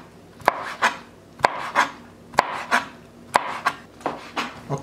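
Knife slicing calamari on a board for a fish salad, a steady rhythm of crisp cuts, each a sharp knock followed by a soft scrape, close and clear.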